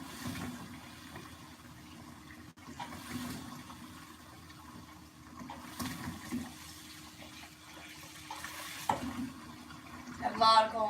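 Cold water runs from a kitchen tap into a sink while baking, a steady splashing flow at close range with some background clatter.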